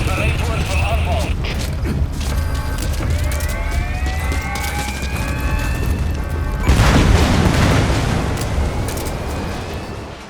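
A separator tank explodes in Metal Gear Solid V with a deep roaring blast, preceded by groaning metallic creaks and whines. A broad rumble follows, loud and sustained against steady background noise.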